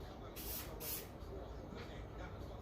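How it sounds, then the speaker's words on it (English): Disinfectant sprayed onto the clipper side of a Wahl Cordless Senior hair clipper, in two short close hissing bursts with a fainter spritz later, while a quiet voice talks in the background. "now we're going to spray"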